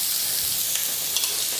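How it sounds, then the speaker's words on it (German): Garlic spinach sears in a hot pan with a steady, loud sizzle and frying hiss that carries on without a break, with no voices over it. "die tun wir jetzt nochmal scharf anbraten"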